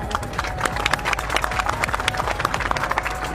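An audience at a political speech claps continuously in dense, uneven bursts. A steady crowd murmur sits underneath the applause.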